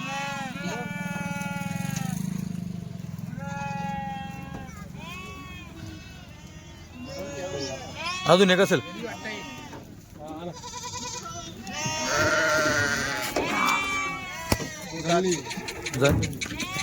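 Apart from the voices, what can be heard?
Kathiawari goats bleating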